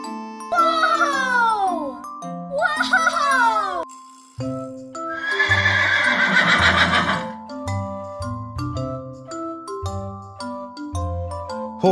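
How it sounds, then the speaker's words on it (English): A horse whinnies twice in a row, each neigh a loud, close, descending call, followed by a longer whinny amid the bright music and sound effects of a children's nursery-rhyme song. "Horse"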